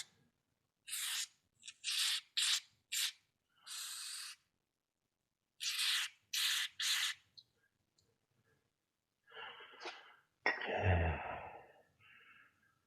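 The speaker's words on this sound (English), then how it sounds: "I'll spray in here a little bit." Rust undercoating sprayed inside a car door in a rapid series of short hissing bursts, roughly nine in quick succession, followed by a clunk and a brief rattle near the end.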